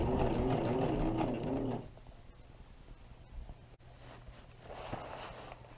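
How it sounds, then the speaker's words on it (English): A sewing machine runs steadily for a couple of seconds stitching the ridge seam of an ultralight tarp, close and clear, then stops, leaving quiet handling noises and faint clicks. "I'll just do my couple stitches and then about 1 inch of back stitching"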